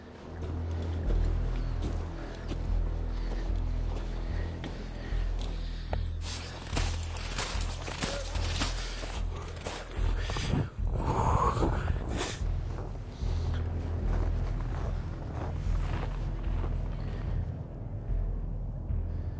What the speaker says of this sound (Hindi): विमान का इंजन अभी भी चालू है।